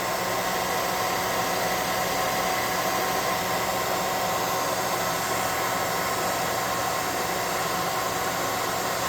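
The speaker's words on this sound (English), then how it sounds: "now we're going to hit them with the air gun again" An air gun blows a loud, continuous hiss of compressed air to dry a painted miniature figure. The rush stays steady and close for the whole stretch, with no talk.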